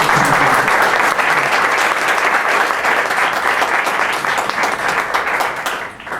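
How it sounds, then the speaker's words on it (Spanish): Sustained, dense applause fills a lecture hall as an audience welcomes a doctor to the podium at an evening talk on nineteenth-century medicine in Guadalajara, steady and loud throughout before easing slightly at the very end. "Y recibamos con un aplauso"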